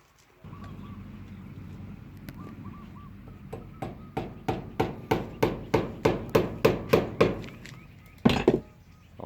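Nails are hammered into a window frame with a steady run of about a dozen evenly spaced, ringing blows that grow slightly louder. A final heavier strike lands after a short pause, all over faint background noise.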